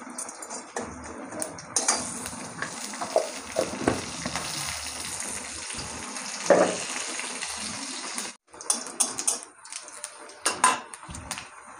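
Panch phoron spices crackle and sizzle in hot oil in a kadai, a continuous frying hiss with scattered pops and metallic stirring clinks, a brief dip near the end, no voices.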